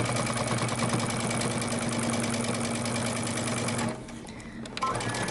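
A sewing machine runs steadily and loudly in a fast, even stitching rhythm while backstitching a seam on a dress or romper, then stops abruptly near the end, leaving a short quiet gap with a faint click.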